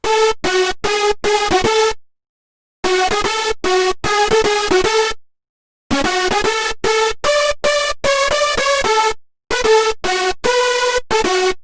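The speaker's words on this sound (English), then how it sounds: "Overall, it sounds like this. This is non-mixed." Five dirty hardstyle synth leads layered unmixed in FL Studio, playing a loud melody of rapid staccato notes in phrases separated by short silences, with bright, buzzy, dense harmonics throughout.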